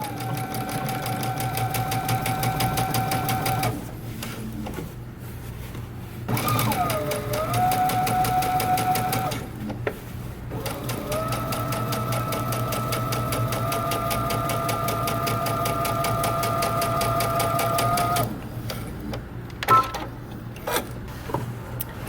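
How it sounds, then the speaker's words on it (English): A sewing machine running along the edge of a jeans pocket lining to understitch it, whirring steadily in long runs, close by, with short pauses and a brief change in pitch between stretches. "I'm going to understitch along the edge, sewing only on our lining."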